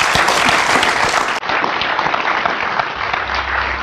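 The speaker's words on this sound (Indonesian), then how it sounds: "Keluarga Gus Dur, kita berikan tepuk tangan sekali." Warm audience applause at a televised talk show, dense continuous clapping from a sizable crowd, loud and close, briefly dipping before carrying on.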